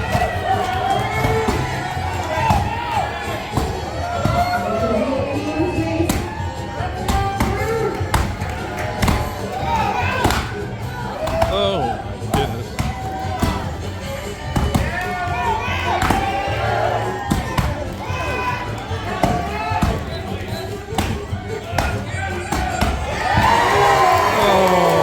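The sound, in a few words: crowd cheering at a lumberjack show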